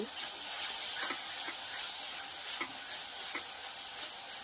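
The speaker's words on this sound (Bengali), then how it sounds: "মশলার মধ্যে থেকে মশলার উপরে তেল ভাজতে আরম্ভ করেছে" Spice paste sizzles and fries in oil for a fish curry, a steady bright hiss with soft stirring scrapes recurring roughly every half second to second, close and continuous with no talking.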